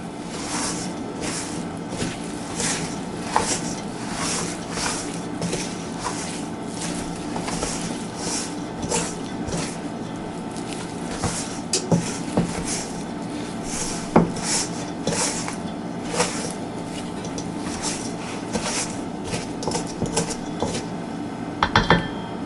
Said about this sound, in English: And now we're going to mix everything together.